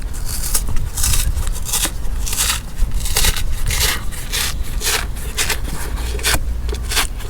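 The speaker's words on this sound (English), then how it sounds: "we got this flap here. It's going around the front of the LS quarter top. We're gonna pry all this back" The vinyl top flap on the quarter of a Box Chevy LS Brougham being pried back, heard as loud, close bursts of scraping, crackling and tearing that repeat in uneven pulses without speech.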